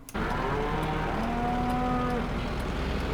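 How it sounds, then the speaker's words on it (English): Cows in Farming Simulator 15 on the Sandy Bay map low in long, drawn-out moos over a steady droning background. "There are some cows going off to the market there, off to the auctioneers."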